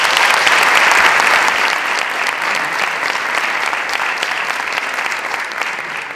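An audience in a theatre applauds loudly, a dense, sustained wash of clapping that eases slightly toward the end.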